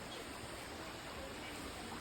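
Rushing water from small streams and little waterfalls in the hills of Idukki after heavy rain, a steady broadband wash that runs without pause and sits fairly close.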